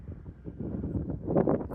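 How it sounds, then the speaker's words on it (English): Wind buffets the microphone on a ridge walk at Heswall Dales, a low, rumbling gusty roar that builds slightly toward the end, heard alone without talk. "It's a bit windy, but it's a nice day otherwise"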